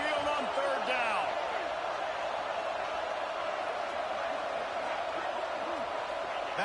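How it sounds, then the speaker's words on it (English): A packed Alabama Crimson Tide football crowd at Saban Field roars on third down, a dense, sustained wall of cheering that stays loud and steady throughout. "The Tide crowd rolling noise down onto Saban Field on third down."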